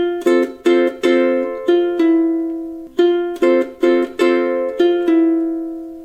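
A ukulele plays one bar of a melody, picked as distinct plucked notes in a bouncy rhythm. The phrase comes twice and is heard close and alone, without speech.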